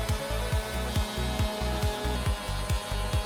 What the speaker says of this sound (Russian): я беру эксцентриковую шлифовальную машинку и шлифую